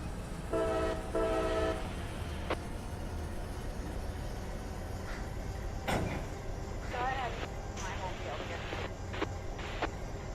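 Train in the Run 8 simulator game on BNSF yard work, horn sounding in two short blasts near the start over a steady rumble of rolling railcars, with someone speaking quietly over it.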